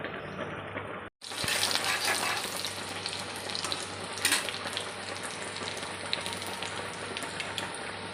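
Crushed garlic and dried red chilli drop into hot oil in a wok, bursting into a loud, bright, steady crackling sizzle after a brief pause, with no talking.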